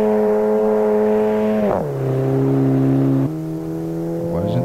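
A race car engine in the Automobilista 2 racing game roars steadily, then drops in pitch around a gear change and holds a lower drone before rising again, loud and alone without talk.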